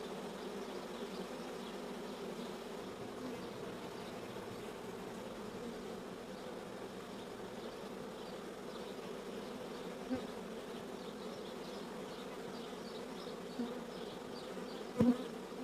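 A dense, continuous hum of a honeybee swarm entering an empty hive fills the clip, steady and close, with a faint bump near the end.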